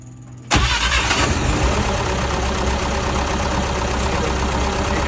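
An Atomic 4 inboard boat engine, newly fitted with an XR3000 electronic ignition module, fires up abruptly after a brief quiet moment and settles into a loud, steady idle, close by and with no talking.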